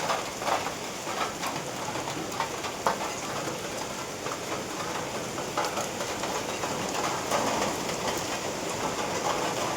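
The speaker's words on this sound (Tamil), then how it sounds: "நல்லா மழை பெய்யுது." Heavy rain pours steadily on an outdoor surface, a dense continuous hiss with scattered louder splatters and no voices throughout.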